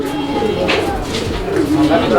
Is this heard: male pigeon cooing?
yes